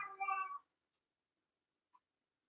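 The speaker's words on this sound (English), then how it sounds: "If you guys didn't hear that, that's my cat." A pet cat gives one short, clear meow nearby. After it the room stays quiet, apart from a tiny faint sound a moment later.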